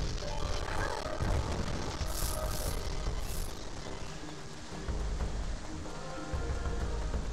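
Steady rain in the video game Star Fox Adventures, a continuous dense wash of falling water mixed with game music and effects, with a few brighter bursts partway through.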